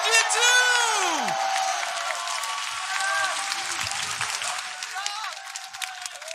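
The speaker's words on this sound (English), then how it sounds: "Applaudissements pour les G2!" Applause and cheering from a large crowd at a CS:GO esports grand final, with whoops over steady clapping and a voice calling out near the start.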